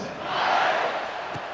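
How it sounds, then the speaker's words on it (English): A stadium crowd in the EA Sports College Football 26 game buzzes with a broad, swelling roar that peaks and then eases slightly, with a brief thump near the end. "this crowd is buzzing after that last score"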